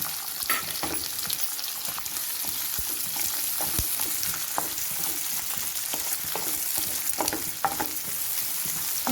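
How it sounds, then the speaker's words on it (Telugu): Onion pieces sizzle and fry in hot oil with curry and bay leaves for a Guntur-style prawn curry, a steady crackling hiss with occasional stirring scrapes and pops throughout, close and alone. "కట్ చేసి పెట్టుకున్న ఉల్లిపాయ ముక్కలు,"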